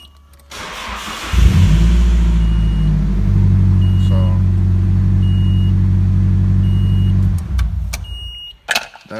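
A Nissan 240SX engine cranks, catches and settles into a steady, loud idle after a new alternator install, running for several seconds before cutting off near the end.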